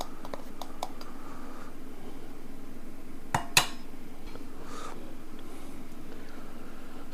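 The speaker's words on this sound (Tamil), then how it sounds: "இதில் நம்ம 1 கரண்டி அரிசி மாவு ஆட் பண்ணிக்கிறோம்." A spoon scoops rice flour into pakoda batter in a bowl. Two bright metallic clinks of spoon against the bowl stand out near the end, over a quiet, steady room hum, with a few lighter taps earlier.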